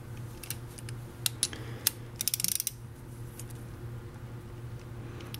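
A 9/16 socket wrench ratchets while tightening a plastic and ceramic fuse in a battery combiner box, quick bursts of small metallic clicks over a low steady hum.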